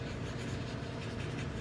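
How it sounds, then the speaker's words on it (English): Pencil scribbling rapidly back and forth on paper, a steady dense scratchy rustle close up that runs without a break and with no talk. "I do a bunch of scribble scrabble"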